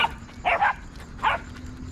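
A German shepherd and puppies produce two short, fairly close barks about three-quarters of a second apart against a quiet outdoor background.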